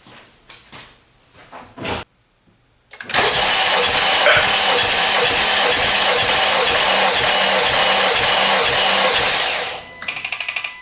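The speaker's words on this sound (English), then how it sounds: "And I'm going to go crank the engine." A Honda Accord engine cranks loudly and steadily for about six seconds with a compression gauge fitted for a test, following a few quiet knocks and handling noises, then cuts off.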